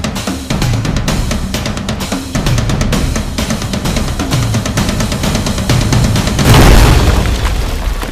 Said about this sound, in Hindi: दूसरे दरवाजे पर धमाका हुआ है, चलो।